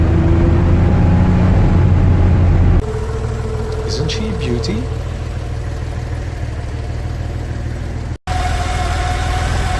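An air-cooled Porsche 911 Targa's 3.2-litre flat-six idles in a low, steady rumble, dropping to a quieter, smoother drone after a few seconds while someone speaks over it.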